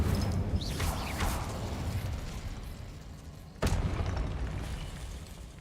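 Incendio fire spell cast in the video game Hogwarts Legacy, with whooshing bursts, a sudden sharp flare partway through and rumbling booms, fairly loud with no speech.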